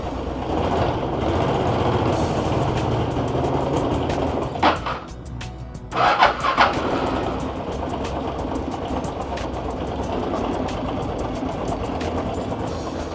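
A Honda Wave X 110 motorcycle engine runs at a steady idle, a continuous mechanical drone with a brief stutter and a few sharp knocks midway before the even running resumes.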